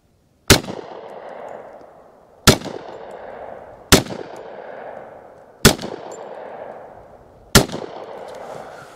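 Five loud, sharp gunshots from a Hi-Point 4595TS .45 ACP carbine at an outdoor range, spaced roughly two seconds apart, each ringing out briefly before the next.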